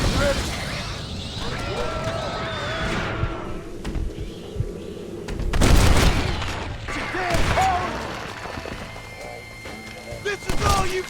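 Gunfire in the zombie-themed Western game Red Dead Redemption: Undead Nightmare, loud sharp bursts clustered mid-clip and near the end over a busy background, with a voice talking.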